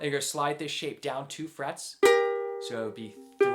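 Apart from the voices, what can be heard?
None of the usual background noises is heard.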